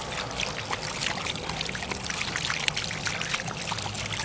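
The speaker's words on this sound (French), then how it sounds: "enlever l'eau et laver sa main" Water runs steadily from a handwashing station as hands are washed beneath it, giving a continuous close splashing trickle with no talk.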